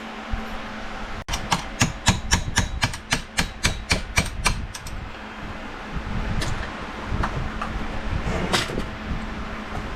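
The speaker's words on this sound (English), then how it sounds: "now we need to get a hammer and a punch" A rapid run of sharp metallic taps, about a dozen evenly spaced hammer blows on a punch, then a few scattered strikes against a steady background hum, while removing a bearing during a Husqvarna teardown.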